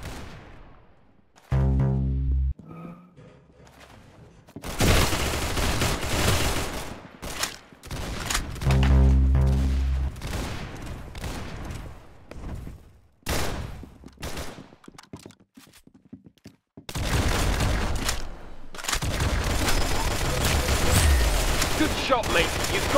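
Video game gunfire in bursts: sharp single shots, rapid automatic volleys and booming blasts, loud and close with gaps of quiet between them.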